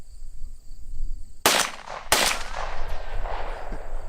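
Two sharp, loud gunshots ring out about half a second apart, fired at a 10-inch steel target through a red dot sight, each leaving a short echoing tail outdoors.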